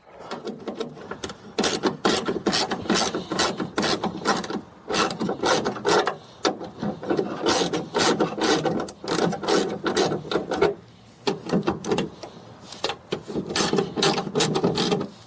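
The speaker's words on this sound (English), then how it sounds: "Then we have the 10mm socket." Rapid ratchet clicking as a 10mm socket works bolts loose inside a Nissan Juke during a speaker install, dense and close, running almost continuously with short pauses and no voices.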